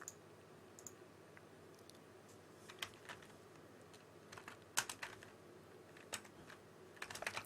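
Someone types a login on a computer keyboard, producing faint, close, irregular key clicks in short bursts that grow busier toward the end.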